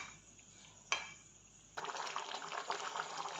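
Water in a pot of capsicum and potato curry starts to bubble, a faint quiet simmer that jumps after a soft clink into a louder, continuous rolling boil with a busy bubbling hiss.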